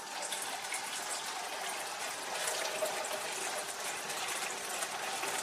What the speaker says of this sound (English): And you can simply put the water through,